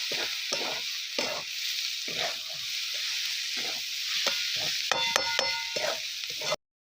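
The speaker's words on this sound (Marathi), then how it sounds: "भाजी आपल्याला अशी चांगली हलवून अशी घ्यायची" Spring onion greens bhaji stirred in hot oil in a pan, soft frying sizzle under repeated scraping strokes of a spatula, with a few light metallic clinks near the end before it cuts off.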